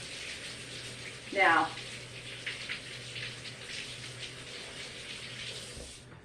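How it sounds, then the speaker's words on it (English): A kitchen tap runs while hands are rinsed clean of dumpling dough, a steady close hiss of flowing water for several seconds, with a brief spoken word early on, before the flow cuts off near the end. "Gotta rinse my hands off real quick."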